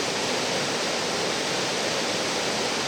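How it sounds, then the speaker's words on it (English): Rushing water of Twin Falls Creek beneath a suspension bridge on a backpacking trail in Yoho National Park, a loud, steady broadband roar that fills the whole stretch without a break. "Dan is crossing the suspension bridge across the Twin Falls Creek"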